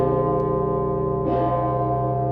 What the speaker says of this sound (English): This bell, a symbol of faith and craftsmanship, will ring in Bucharest's Cathedral